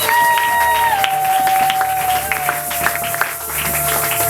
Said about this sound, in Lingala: Est-ce qu'on peut acclamer très fort pour cette même parole?